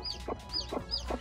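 A hen broods her newly hatched chicks, giving three soft low clucks in a steady rhythm while the chicks peep in high, thin chirps close by.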